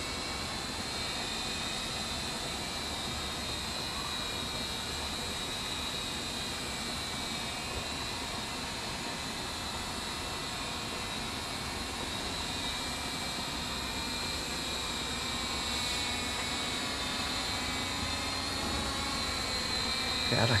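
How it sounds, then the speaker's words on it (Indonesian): A small Teng Mini KF609 quadcopter drone flying, its motors giving a steady, even high-pitched whine that holds at a constant level throughout, with no talk over it. "drone pun akan bergerak sesuai dengan lintasan yang kita barusan buat"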